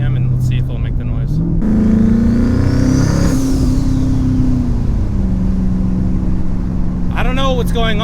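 A twin-turbo Ford Mustang engine revs up and holds a steady high note before easing back down, loud and close, with a voice briefly heard near the end.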